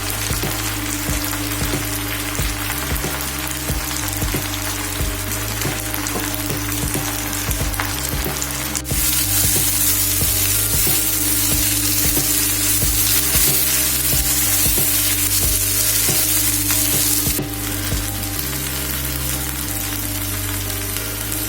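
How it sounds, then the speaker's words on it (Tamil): Gongura sorrel leaves sautéing with rock salt in a pan for pulichai keerai chutney, giving a loud, steady, broadband sizzle with stirring scrapes throughout, no voices. "இதுக்கு தேவையான கல்லுப்பு ஆட் பண்ணி வதக்கிக்கோங்க."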